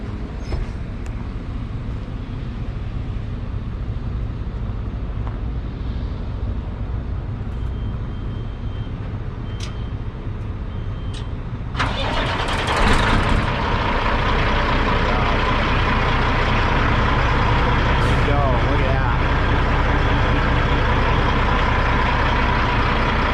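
Kenworth W900 day cab with a Cat 3406 engine and 10-inch stacks, a steady low diesel rumble that swells louder partway through as the engine picks up, running on alone throughout.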